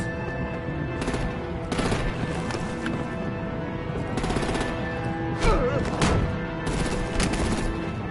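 Gunfire in the Batman Telltale Series game: several bursts of shots at irregular intervals over a busy battle bed, with occasional louder bangs, the shooting moderately close and mixed with other action noise.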